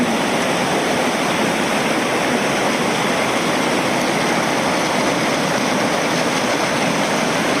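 Small natural waterfall near Lacrouzette in southern France, a steady, loud, broadband roar of falling water that never lets up, heard up close with no voices.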